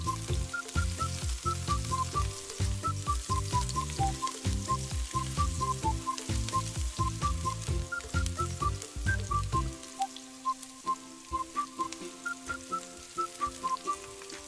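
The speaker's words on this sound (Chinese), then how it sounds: "开大火，牛排放回锅里翻炒至没有红色" Sliced steak stir-fried in a hot pan over high heat gives a steady close sizzle under prominent background music.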